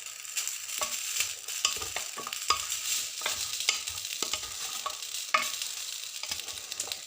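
Chicken sears in oil inside a tagine, a steady close crackling sizzle broken by repeated sharp scrapes and clicks of stirring, with no voices.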